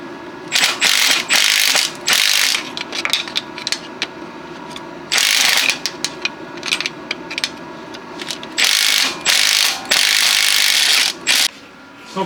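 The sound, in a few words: ratchet tightening bolts on Honda Pilot transmission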